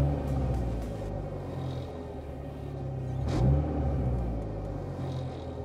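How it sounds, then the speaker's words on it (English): A car engine idles as a low, steady rumble, then revs once briefly when gas is applied before settling back to idle, with no talking. "So I'm gonna give it some gas."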